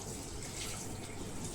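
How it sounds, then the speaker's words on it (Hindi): Water is poured steadily from a bucket into the ice chamber of a Usha Aerostyle 70L cooler, making a continuous close rushing splash with no talk. "जब हमारे से पानी भर जाता है, अब हम कूलर में डालेंगे।"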